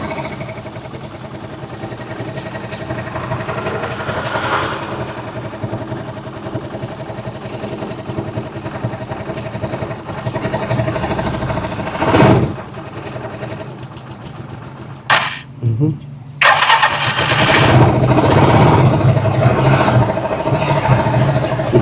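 An idle vehicle left unused for a month runs unevenly, its engine sputtering and nearly dying, with a couple of sharp bangs before it catches and runs steadier and louder near the end.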